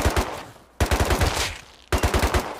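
Rapid bursts of video game gunfire in a snowy multiplayer battle, three loud automatic volleys separated by brief pauses, heard alone without talk.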